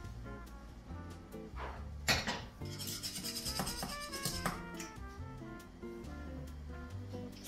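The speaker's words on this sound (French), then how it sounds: "Avec le fouet, quand on gratte le fond, on sent si ça accroche ou pas." A metal whisk scrapes the bottom of a pan of matcha custard warming over low heat, a steady rasping and rubbing that carries on throughout, close and without talk.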